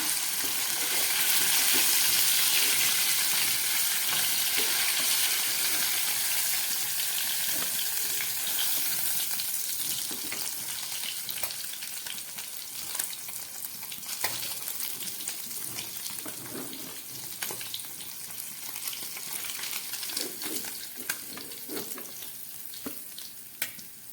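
Lote fish (Bombay duck) fry in a pan of oil, giving a loud continuous hissing sizzle that holds for the whole stretch with occasional faint clicks and crackles.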